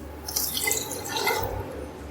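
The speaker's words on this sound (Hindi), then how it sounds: "4 गिलास इसमें पानी डालूंगी" Water is poured into a pot of rice being cooked for chicken BBQ pulao, a short splashing, trickling pour heard close and alone.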